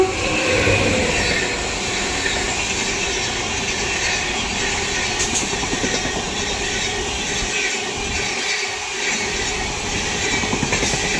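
Patna Amrit Bharat Express train overtaking on an adjacent track, a steady loud rumble of rolling railcars with faint clickety-clack of wheels running continuously throughout, no voices.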